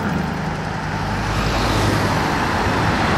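A Rolls-Royce convoy rolls past during the Gumball 3000 rally in France, a steady, close roadway wash of engine and tyre noise that holds throughout with no distinct single pass.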